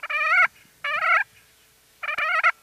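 Push-button turkey box call worked in three short bursts, each a run of nasal yelping notes imitating a turkey, close and clear against near silence.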